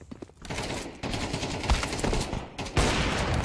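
Dense gunfire in a Counter-Strike video game, with rapid automatic bursts and overlapping shots that come thick and loud without a break.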